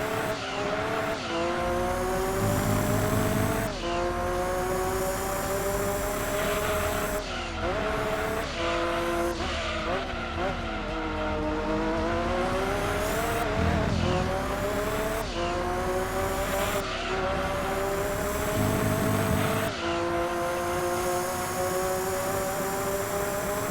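Race cars run a lap in Gran Turismo 2, with loud, constant engine whine rising and falling through gear shifts and corners. Brief tire squeals and skids break the engine drone.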